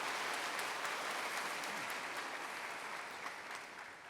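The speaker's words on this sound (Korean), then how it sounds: "하나님 앞에 영광의 박수 올려드리겠습니다." A congregation in a church sanctuary breaks into sustained applause, many hands clapping in a dense uniform wash that eases off gradually toward the close.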